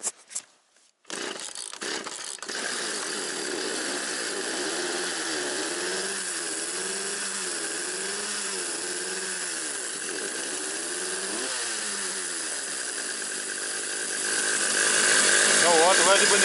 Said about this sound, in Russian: Пила холодная.